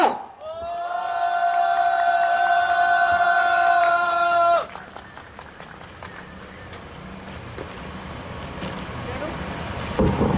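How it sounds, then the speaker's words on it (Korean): At a Korean labor rally for a workers' presidential candidate, sustained musical tones give way to a crowd applauding and cheering, a rumbling mass of voices and claps that swells toward the end. "우리 김철현 동지 힘찬 박수 함성으로 모셔봅시다"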